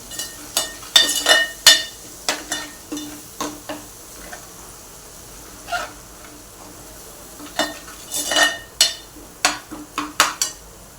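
A spoon stirs prawn curry seasoned with salt in a pot over a low flame, producing sharp metallic clinks and scrapes in uneven bursts, with a brief quiet stretch in the middle.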